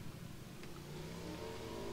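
A motorcycle engine revving in PUBG, a steady droning mid-pitched roar that climbs gradually in pitch as it accelerates, close and continuous, with no one talking.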